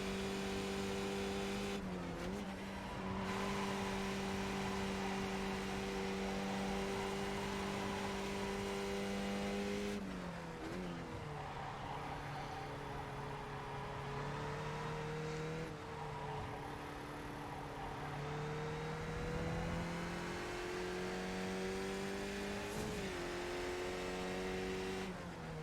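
A race car in a sim racing game drives hard with a loud, sustained engine drone, rising through the revs and dropping sharply at several gear changes, steady and close throughout.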